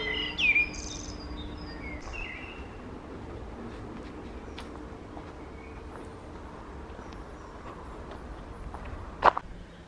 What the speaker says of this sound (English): the bird singing in the tree up there will always be a merel rather than a blackbird